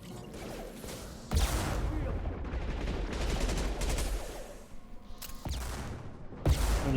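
SMG gunfire in the Mass Effect video game, rapid bursts of shots in a busy firefight, with sharp loud impacts breaking through now and then.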